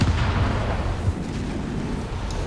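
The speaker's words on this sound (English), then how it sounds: "Another Nielwefer barrage" Nebelwerfer rocket artillery barrage in Company of Heroes 3, a dense continuous roar of booms and rumbling explosions that stays loud and low-heavy throughout without pause.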